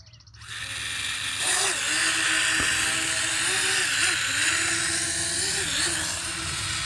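A DEERC entry-level toy drone spools up and lifts off, its small rotors rising into a loud, steady high-pitched whine that wavers slightly as it hovers and maneuvers close by.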